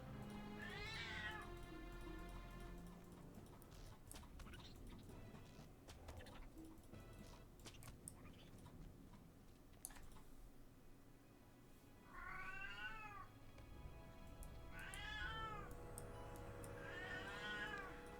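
A cat howls and meows loudly, with drawn-out wailing cries near the start and three more rising-and-falling yowls toward the end, over a steady background of game music and noise.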